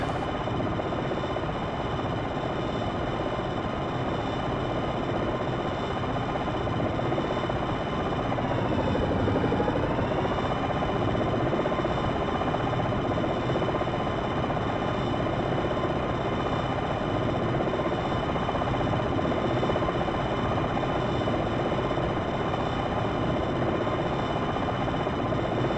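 An AH-64 Longbow helicopter flies in Jane's Longbow Gold, a steady, loud rotor and engine drone that holds without break and shifts briefly in pitch midway.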